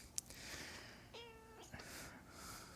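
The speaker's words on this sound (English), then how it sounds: "And there's the meowing has started." A cat gives one faint, drawn-out meow in a quiet room, preceded by a soft click and followed by low background hiss.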